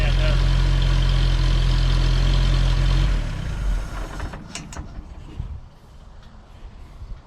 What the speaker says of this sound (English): you guys seen the truck running